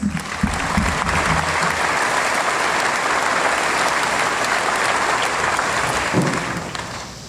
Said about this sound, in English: Please give him a welcoming round of applause.